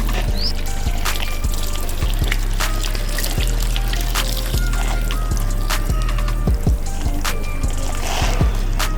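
Water trickles and runs steadily off a crystal-coated car surface, close and fairly loud, over a regular low mechanical thumping pulse.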